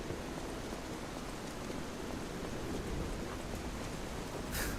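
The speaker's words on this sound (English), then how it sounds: "It started heavy raining." Heavy rain in the video game Lies of P, a steady broadband hiss of downpour filling the whole stretch at an even level, with no voices.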